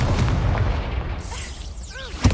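A Confringo blasting spell explodes in the Hogwarts Legacy video game, a dense rumbling boom of artillery-like blasts followed by whooshing sweeps and a sharp final pop, loud and close with no talk.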